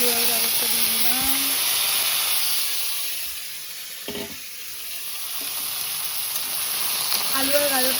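Potatoes and carrots sizzle steadily in a hot pan with cumin, a constant bright frying hiss throughout, while a voice speaks over the start and end.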